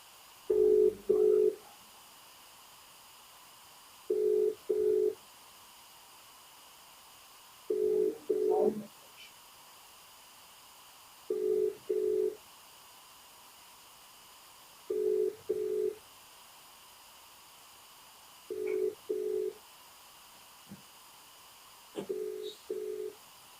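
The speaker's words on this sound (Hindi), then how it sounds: "मैं फोन पे लगाता हूँ।" Repeated short bursts of telephone tones, about seven evenly spaced pulses several seconds apart, like a ringback or dial signal sounding alone with a quiet background.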